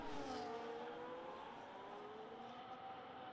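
Race cars pass a slowed car on a track at the Qatar grand prix, engines whining in a smooth sustained tone that slides in pitch, fairly quiet and steady.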